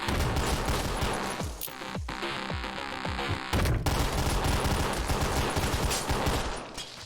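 Rapid gunfire blasts in the video game OTXO, dense bursts of shots overlapping with a booming soundtrack, loud and continuous with a brief lull midway.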